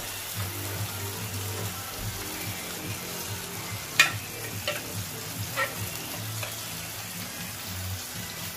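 Soup of beef being stirred in a frying pot, a low steady simmer and sizzle with a few sharp clinks of the utensil against the pot partway through, no voices.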